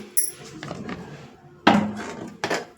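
Fried vadas set onto a plate bring a few sharp knocks and clinks, one loud contact near the middle and a lighter one at the end, heard close in a quiet room.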